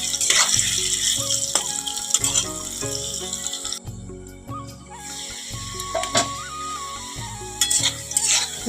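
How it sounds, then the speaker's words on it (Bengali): Potatoes fry in hot oil with a continuous loud sizzle, broken by rhythmic stirring scrapes against the pan and a few metallic knocks. "আলুটা ভালো করে লাল করে ভেজে নিলে তাড়াতাড়ি সিদ্ধ হয়ে যাবে"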